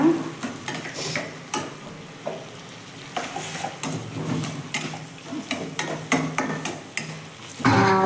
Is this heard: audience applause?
no